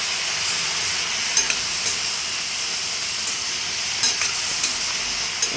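Vegetable palya simmering in water in a pan, a soft continuous hiss and bubbling with a few faint clinks of stirring, quiet and close, with no talk.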